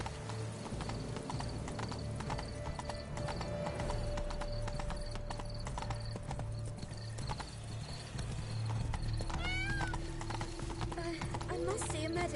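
Horse clip-clop hooves galloping steadily in The Witcher 3, a continuous near rhythm under game ambience, with a brief whinny-like tone and some background voice.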